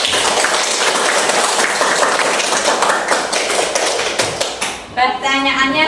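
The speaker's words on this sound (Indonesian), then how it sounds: "kasih aplaus untuk kita semua" A classroom of fourth-grade pupils claps together in a lesson on changes of state, a loud, steady patter of many hands that fades out as a voice comes in at the end.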